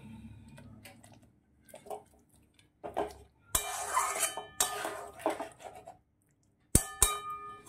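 Fried cabbage is tipped into a cooking pot, bringing sharp metallic clangs of utensil against pot, bursts of sizzling and scraping, and short pauses between the clattering, all close by and without speech.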